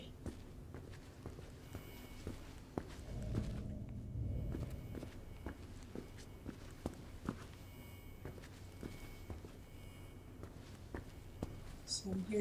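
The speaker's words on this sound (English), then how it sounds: "So I'm hearing my own footsteps." Footsteps walk through an indoor building, a run of soft, regular treads, fairly close and quiet, with a brief low rumble partway through and no talking.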